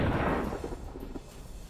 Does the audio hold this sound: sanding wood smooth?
no